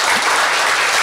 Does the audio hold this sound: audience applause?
yes